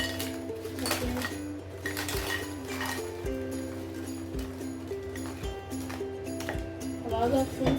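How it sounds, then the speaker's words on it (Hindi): Crispy fried pani puri (gol gappa) shells are set on a tray, giving repeated light clinks and clicks close by while someone talks over them. "आवाज़ आप सुन सकते हैं कितनी क्रिस्पी हैं"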